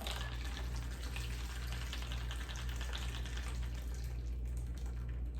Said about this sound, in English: And then we are going to pour.